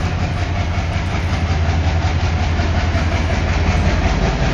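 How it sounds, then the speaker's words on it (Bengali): A passenger train on a Bangladeshi rail line near Rajshahi rumbles past steadily and loudly, its wheels beating a continuous clickety-clack over the track with no pause, alone and without talk. "দূর থেকে দেখেন একটা ট্রেন আসতেছে"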